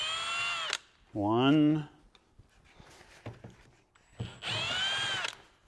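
An impact driver removing the screws of a Land Cruiser mirror: two short, high-pitched whirring bursts, one at the start and one near the end. Someone speaks in between, and there are faint clicks and handling noises.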